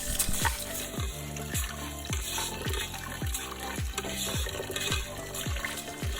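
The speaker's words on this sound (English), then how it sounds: "So let's clean some starch off the rice." Rice being washed under running water from a tap to rinse off starch, a continuous close stream of splashing water with irregular gurgles and swishes as grains are stirred, without voices.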